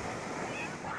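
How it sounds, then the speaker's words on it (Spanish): Sea waves wash onto a beach in a steady, broad surf rush, fairly close and continuous, with faint wind noise over the water. "el mar, ahí está la playa, está el agua, bien fría"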